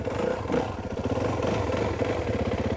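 A dirt bike engine chugs unevenly and fairly loud close by while the rider slips the clutch in a lean turn. The mid-pitched throb stays steady with no hard revving.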